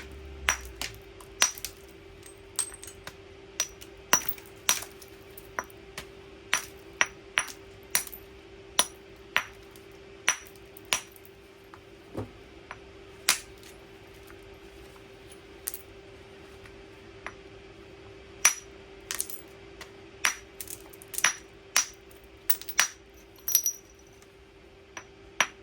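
A hammer striking a roughly 1.5-inch-thick block of aluminium during spalling, producing a long series of sharp, bright metallic clinks at an irregular pace over a low steady hum.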